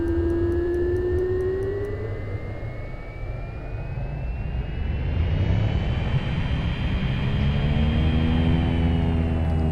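An aircraft turbine engine is throttled back to low idle, a loud continuous roar with a whining tone that dips and then climbs and steadies as the engine settles, with no voices heard.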